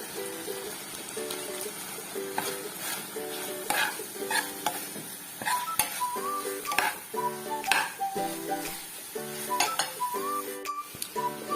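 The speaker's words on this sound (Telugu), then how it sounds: "ఇందులోకి ఇప్పుడు మనం ఉడికించుకుని వార్చుకున్న పనసపొట్టు వేసి కలియపెడదాం." Boiled, drained jackfruit is stirred into a thickened tamarind curry in a pan, with repeated close metal clinks and scrapes of a spoon against the pan over a faint simmer and soft melodic music beneath.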